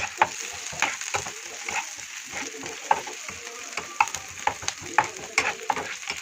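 Food frying in a pan crackles and sizzles up close, broken by a rapid series of sharp clinks and scrapes as it is stirred and turned.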